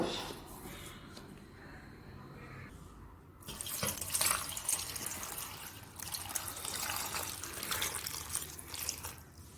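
Soft splashing and trickling water as ripe plantains are washed in a Kerala kitchen, quiet at first and then fuller, steady rinsing sounds.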